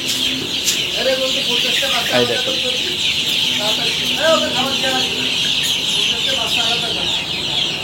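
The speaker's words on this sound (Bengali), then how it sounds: "ফার্মি মুরগি, অরিজিনাল মিশরি ফার্মি মুরগি।" Fayoumi (Egyptian) chickens at a hatchery in Khulna cluck continuously and close by, with a dense chorus of calls throughout while someone speaks over them.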